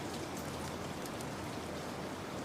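Rain patters steadily in a soft, even, continuous hiss of drops with no distinct events, fairly quiet and unbroken throughout.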